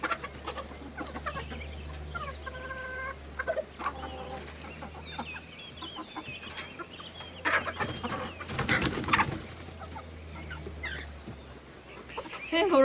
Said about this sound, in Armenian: հավերս ծարավ են, կանաչ խոտ չունեն